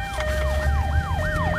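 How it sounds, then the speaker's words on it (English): A police siren wails continuously in rapid rising-and-falling sweeps, loud and close over a low engine rumble, with no talk. "The sirens are going off."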